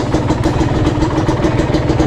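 A Kawasaki RR150 two-stroke motorcycle idles steadily up close, a loud continuous engine burble with a fast, even pulsing throughout and no talking.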